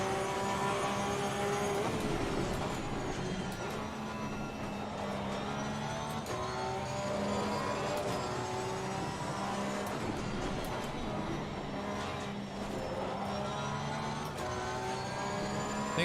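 Porsche race car engine in Assetto Corsa Competizione at Zolder, a continuous high-pitched engine whine rising and falling with throttle and gear changes over several laps' worth of driving, steady and fairly quiet.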